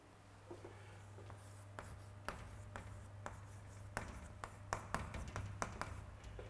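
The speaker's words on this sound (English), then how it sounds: "I am writing it on the board." A lecturer writing on a classroom board, a run of close, irregular taps and scratchy strokes over a steady low electrical hum, with no talking.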